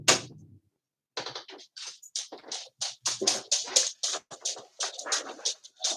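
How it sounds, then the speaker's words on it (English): A dog whimpers and whines in a run of short, close, high-pitched cries that follow a brief thump at the start, heard on its own with no talking. "The dog wants to come in."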